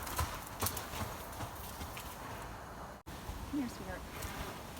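Horse hooves clip-clop on the ground as the horse moves around on a lunge line, an uneven series of moderately close footfalls with light rustling, broken by a brief dropout.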